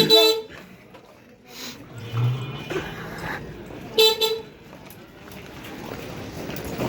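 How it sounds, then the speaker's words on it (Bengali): A vehicle honks from behind at a rural jute market, two sharp toots about four seconds apart over road traffic and general bustle. "গাড়ি এসে হর্ন দিচ্ছে,"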